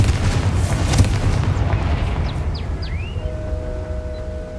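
A Confringo explosive spell in Hogwarts Legacy bursts with a heavy, booming roar that rumbles and slowly fades, while faint whistling chirps rise over the dying noise.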